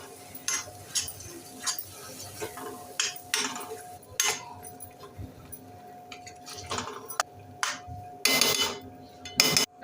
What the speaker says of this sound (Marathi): ह्या चांगला आपण परतून घेऊया